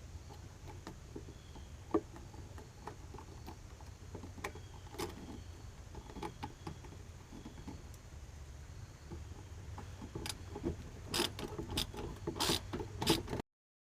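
A ratchet driving screws into pre-drilled holes on a storage build, heard as faint, rapid clicking and ticking over a low background hum, growing busier with a few sharper metallic clicks toward the end.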